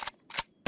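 Sniper rifle shots in the video game Ghosts of Tabor, three short sharp cracks spaced apart in under a second, fairly close and loud.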